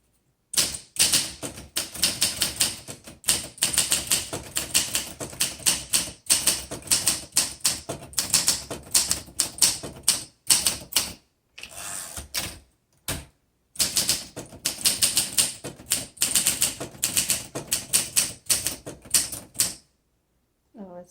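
A 1959 Olympia SM3 vintage manual typewriter being typed on, rapid crisp key strikes in clustered bursts with brief pauses and a few gaps, close and clear, with no talking over it.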